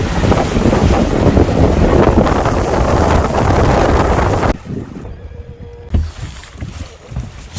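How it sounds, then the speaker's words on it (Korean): Strong wind roars across the microphone at sea aboard a small fishing boat, with loud steady buffeting and water noise, then drops suddenly to quieter gusts and splashes near the end. "지금도 바람이 조금 세게 불고 있습니다"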